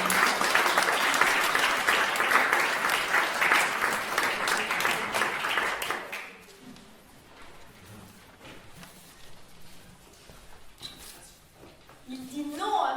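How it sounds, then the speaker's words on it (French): Audience applause at a summer music and arts workshop show, a dense, loud burst of clapping for about six seconds that drops abruptly to scattered faint claps and room noise, with a voice rising near the end. "On peut les applaudir."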